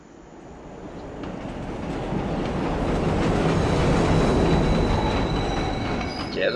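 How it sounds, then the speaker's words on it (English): Subway train in The Warriors video game rumbling along the rails, a steady loud roll that swells over the first seconds and holds, with faint wheel squeal and clatter, no voices. "Yeah, the subway. My favourite mode of transportation."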